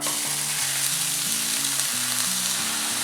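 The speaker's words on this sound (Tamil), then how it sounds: "ஸோ கடாயில் வந்து ஆயில் சேர்க்குறேன். ஆயிலில் வந்து ஆனியன் சேர்க்குறேன்" Onions frying in oil in a kadai for chicken samosa filling, a steady, loud, close sizzle that holds without a break, with a faint tonal hum running beneath it.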